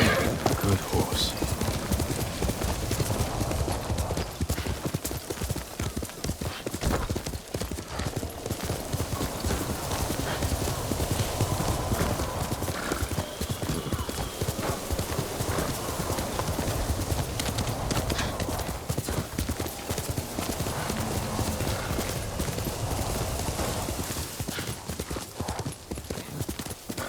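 Horse hooves clip-clop steadily at a gallop in the video game Ghost of Tsushima, loud and continuous, with occasional whinnies and busy game sounds layered over the rhythmic beat.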